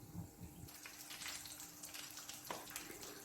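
Samosas fry slowly in oil over low heat with a faint, steady bubbling sizzle, marked by a few light crackles and one soft tap.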